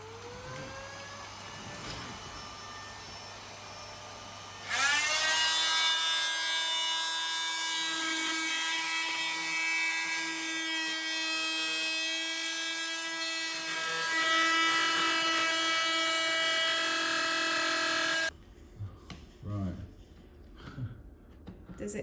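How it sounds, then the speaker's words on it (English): A hoover vacuum cleaner runs loud and close during house renovation, switching on with a steady high whine that holds for about thirteen seconds before cutting off; quiet talk is heard before it starts. "So you're going to be using a hoover at the same time"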